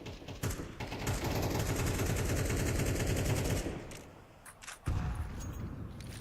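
Rapid automatic gunfire rattles through a Counter-Strike match on the Vertigo map during a professional semifinal, dense continuous bursts for several seconds, then a brief lull before another loud burst.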